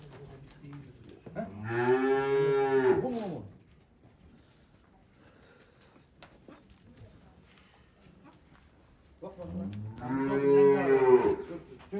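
At a livestock market selling sacrificial animals, a cow lets out two long, loud moos several seconds apart, with quieter market background between them.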